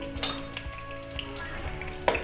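Sliced onions browning in a pan hiss and sizzle steadily while a spoon stirs them, adding scrapes and a couple of sharp metallic clinks against the pan, close up and without speech.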